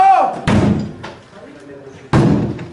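A door is forced during a police raid: two loud, heavy slams or impacts land about two seconds apart, with shouting voices around them.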